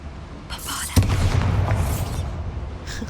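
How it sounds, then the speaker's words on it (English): A Bombarda spell in the video game Hogwarts Legacy sets off a heavy, booming explosion that swells suddenly and then rumbles and fades, with a whooshing, magical shimmer over it. "She whispers it and it's just a huge explosion."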